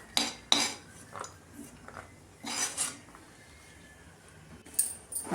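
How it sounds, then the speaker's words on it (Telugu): Fried bread pieces being moved into a bowl, with metal utensils clinking and scraping against cookware in several short, bright clatters separated by quiet pauses. "అన్నీ మంచిగా వేగిన తర్వాత ఒక గిన్నెలోకి తీసుకోవాలండి."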